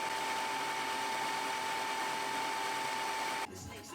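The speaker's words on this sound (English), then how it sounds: "I did some final sanding at the belt sander to shape them" Belt sander shaping the wooden legs of a large dog bed, a steady high whine with a fixed tone running nearly four seconds before cutting off abruptly, close and even.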